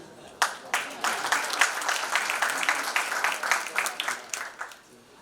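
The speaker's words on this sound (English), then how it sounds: "please give a huge round of applause to the entire team of Credo" Audience applause at the Credo Center of Excellence inauguration, a crowd clapping in a dense, lively burst that swells after a sharp start, with individual claps audible and tapering toward the end.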